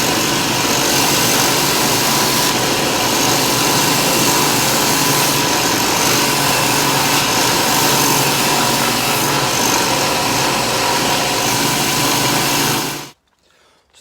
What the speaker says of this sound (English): Sanding it's taking freaking forever.